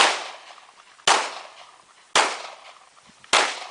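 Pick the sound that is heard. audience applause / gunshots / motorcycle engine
gunshots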